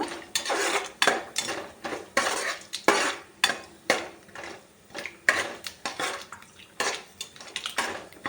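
Ingredients for upma fried and stirred in a pan, a metal spoon scraping and clanking in a steady repeated rhythm, close and fairly loud, with a faint sizzle beneath and no voices.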